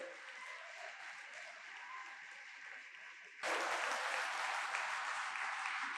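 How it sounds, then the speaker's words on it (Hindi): Audience applause in a hall at a youth parliament event, a faint murmur that suddenly swells into loud, dense, sustained clapping for the last few seconds. "एक बार जोरदार तालियां बजा दीजिए"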